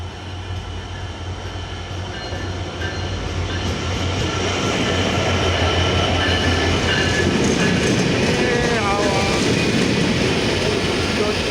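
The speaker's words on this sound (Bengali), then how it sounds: "দুটি ট্রেন কিন্তু একসাথে সৈয়দপুর ইন করলো" A locomotive-hauled intercity passenger train rumbles into Saidpur station, growing louder as wheels clatter over rail joints, with brief metallic squeals of braking near the end.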